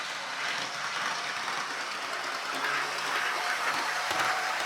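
A small model locomotive motor whirs steadily at full controller power with a rough, rattling mechanical noise, continuous and moderately loud throughout.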